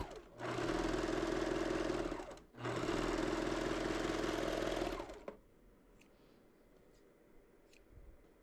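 A sewing machine stitches fabric panels together for a winter cap in two long, steady whirring runs separated by a brief pause, then stops, leaving quiet room tone with small clicks.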